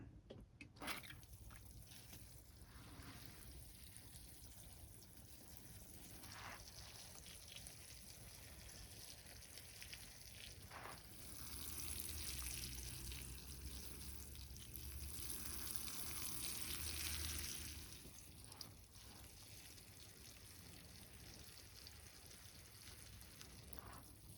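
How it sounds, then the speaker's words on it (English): Water is poured onto the soil of a freshly repotted yucca and then drains through, giving a soft trickle and dripping that swells to a fuller splash in the middle before tapering off, faint and close. "All right, let's get some water on it."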